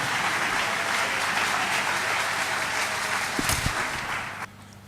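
A church congregation claps steadily and densely as the pastor comes forward, the applause holding strong for over four seconds before cutting off abruptly.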